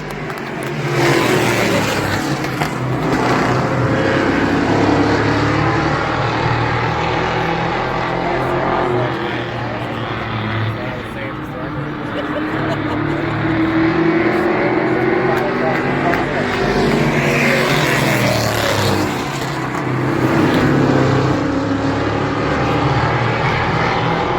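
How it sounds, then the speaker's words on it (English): Street stock race cars run on a dirt track during a 2023 season-opening race, their engines roaring loud and continuous as they circle, with the sound swelling and fading as cars pass, while an excited voice talks and cheers over it. "Street stocks on track number 5, Josh Duff, number 22, Sean Lester"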